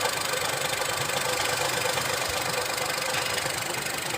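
Steady knocking, rattling mechanical noise from a Geely Coolray 1.5L at idle, traced to a worn dual mass clutch flywheel leaking grease at the transmission, running continuously and close up with no talk.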